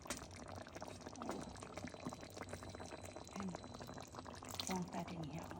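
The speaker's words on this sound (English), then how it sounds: "I'm going to take a little bit of the pasta water" Starchy pasta water is poured into a pan at home, giving a soft, faint splashing trickle that runs for several seconds beneath quiet talking.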